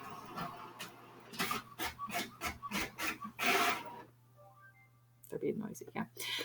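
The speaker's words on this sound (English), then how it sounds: "my printer is going off" A printer runs in repeated mechanical bursts, rasping and clicking in short passes, then pauses before starting again; close by with faint background hum.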